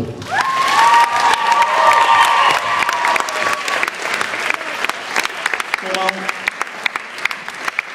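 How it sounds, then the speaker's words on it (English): Applause from a school prom audience, loud and sustained with scattered cheers and crowd voices across the whole stretch, fading slightly toward the end. "A round of applause, please."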